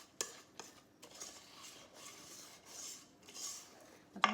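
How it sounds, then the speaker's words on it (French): Batter for pesto shrimp bites being stirred with a whisk in a bowl, giving soft, steady scraping and swishing strokes, close but fairly quiet, with a few sharper clicks against the bowl. "C'est pour ça que j'utilise le fouet."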